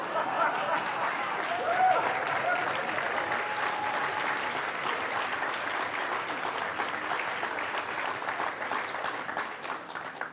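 Sustained applause from a lecture audience, dense steady clapping filling the hall at a constant level for the whole stretch, with no speech over it.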